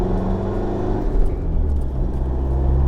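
Car engine held at steady revs while an electronic throttle controller is tested, a loud, continuous low rumble with a slight rise in pitch across a few seconds and no talking.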